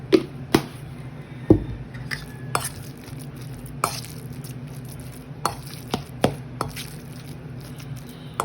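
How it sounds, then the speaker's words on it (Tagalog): Tofu frying in a pan for tortang tofu, giving a steady low sizzle with scattered sharp clicks and taps of utensils against the pan, close and fairly quiet, with no talking. "And outside to fry this tofu, the tortang tofu."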